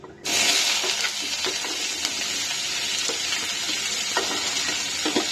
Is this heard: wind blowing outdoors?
no